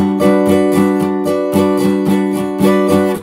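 Indie guitar strummed on every stroke without gaps, a steady, continuous stream of bright chord strums with regular accents, close and loud, no talking.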